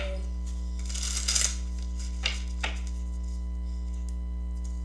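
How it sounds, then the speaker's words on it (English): A few quick riffling bursts of cards being shuffled over a constant low electrical hum, fairly faint and close. "More shuffle."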